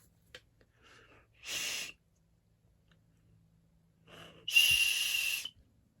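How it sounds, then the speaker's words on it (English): Two short blasts on a survival-kit whistle, a brief shrill tone followed by a longer, louder one, with quiet handling noises and breaths between them. "That's a whistle."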